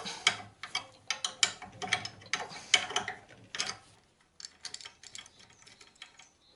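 Screws on a car front-suspension ball joint cap being undone, a run of sharp ratcheting clicks in bursts, then quieter lighter ticks and scrapes near the end, close and with no speech.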